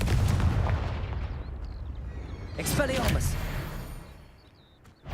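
A Confringo blasting spell in Hogwarts Legacy goes off with a loud booming explosion and a crackling burst midway, followed by a fading rumble.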